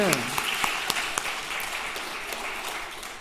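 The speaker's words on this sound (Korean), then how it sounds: "이럴 땐 박수 왜 안 치세요?" A church congregation at a family worship service gives a scattered round of applause, with a few sharp individual claps over a softer wash and a voice briefly at the start.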